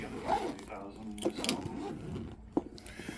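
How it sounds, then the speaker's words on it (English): Zipper on a Nintendo Switch 2 carrying case being opened, a quiet, short rasping pull with small clicks and fabric rustle, heard close up alongside a soft voice. "I'm gonna pop it open real quick and unzip it."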